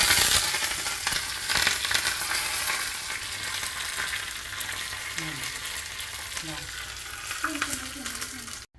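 Mustard seeds, dried chili and curry leaves fry in hot oil as a tempering for rasam, making a loud, continuous, close crackling sizzle with bursts of popping and light stirring.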